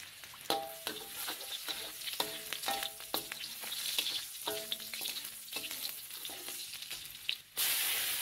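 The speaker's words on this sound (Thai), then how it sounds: "ตามด้วยกระเทียมลงไปผัดให้เหลืองหอมเลยครับ" Garlic sizzles in a little pork lard in a hot wok while a utensil scrapes and stirs in irregular strokes, sharp clinks punctuating the frying, ending in a louder burst of sizzle.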